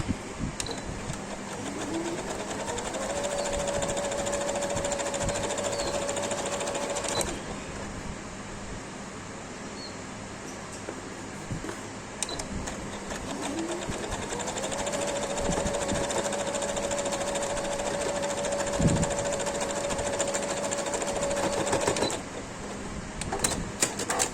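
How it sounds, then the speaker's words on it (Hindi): A sewing machine runs steadily while stitching a sleeve for a baby frock for a girl of one to one and a half years, a continuous close mechanical chatter in two long runs with a brief pause between and no talking. "साथ साथ नीचे से मोड़ती जाऊँगी और सिलाई लगाती जाऊँगी"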